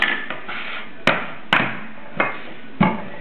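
A knife chops the top off a whole pineapple with several sharp, separate thwacks against a cutting board, close and fairly loud, spaced irregularly with short pauses between strikes.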